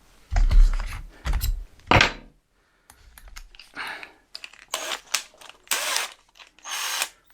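A power screwdriver with a square bit drives square-drive screws into a storage build, several short whirring bursts with clicks and clunks between them, close by, no speech.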